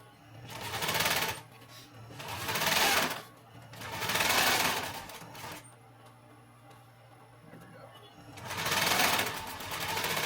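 A sewing machine stitches a simple backpack in several separate runs, each a buzzing whir that rises, holds and stops, with quiet gaps between.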